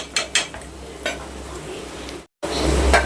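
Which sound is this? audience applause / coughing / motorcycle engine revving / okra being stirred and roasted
okra being stirred and roasted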